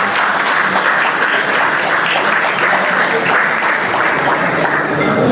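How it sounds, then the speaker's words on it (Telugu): Audience at a Telugu poets' anniversary celebration and award ceremony in Rajahmundry breaks into sustained applause, a dense, steady roar of many hands clapping throughout. "అందరూ హర్షాతిరేకంలో ఒకసారి చప్పట్లు కొట్టి"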